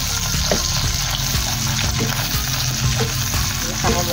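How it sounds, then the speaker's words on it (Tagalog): Pasta sauce cooking in a pan gives a loud, steady sizzle and bubbling frying sound with intermittent scraping of a utensil stirring, close and continuous throughout. "at niluluto ko na yung sauce."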